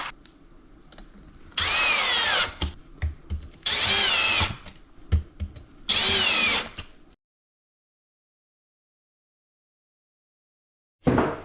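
Power drill driving four screws into the bracket of a ready-to-assemble lazy Susan cabinet: three loud whirring bursts of a couple of seconds each, separated by short clatters, then silence before a final short burst.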